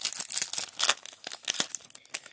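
A foil trading card pack from a Championship Collection box is torn open up close, with a quick burst of crinkling and ripping foil that comes in short irregular bursts with no voices.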